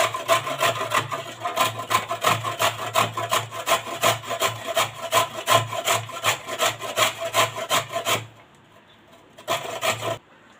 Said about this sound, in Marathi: मोठ्या किसणीवर आपण आता हे गाजर किसून घेऊया